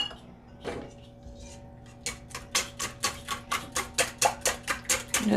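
Rapid rhythmic clicking of a whisk beating whole fat milk in a bowl, about a dozen sharp evenly spaced strokes, close and distinct after a quieter start.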